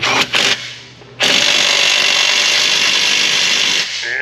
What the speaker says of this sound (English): wrench coming in, that's gonna hold our bolt. And then we'll tighten that nut.